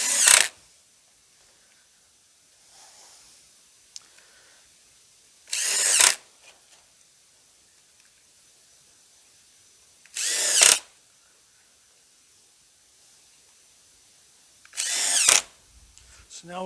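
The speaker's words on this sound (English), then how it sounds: "you drill pilot holes when you got just a 1-inch wide piece of wood" A power drill bores pilot holes into a 1-inch wide board for a simple chicken tractor, four short bursts of whirring spaced several seconds apart with near silence between them.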